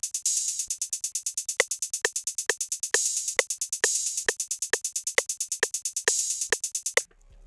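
An open hat from a drum kit, taken from a song, is layered over a rapid, steady FL Studio hi-hat roll. Brighter, longer hat bursts rise above the sharp regular ticks before the pattern cuts off.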